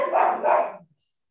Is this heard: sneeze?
no